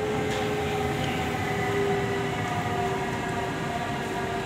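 A Delhi metro train runs steadily with a constant rumble and hum, heard from inside an empty car, with no talk.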